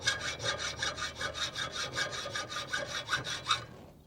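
A metal piece clamped in a vise is sawn with a hand saw in about a dozen even back-and-forth strokes, close and fairly loud, with no talk.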